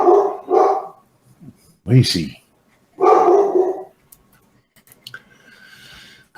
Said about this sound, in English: I got the dog barking at something